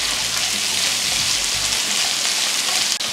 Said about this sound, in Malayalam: എണ്ണ ചൂടായി വന്നിട്ടുണ്ട്. നമുക്കിതിലോട്ട് മീഡിയം 2 സവാള നീട്ടത്തിലരിഞ്ഞത് നമുക്ക് ഇട്ട് കൊടുക്കാം.